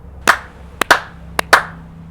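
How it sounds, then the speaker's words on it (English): A small group claps outdoors in Iceland after a countdown: five sharp, close claps in loose pairs, not quite in sync, over a low, steady background hum. "I'm counting down and we're clapping"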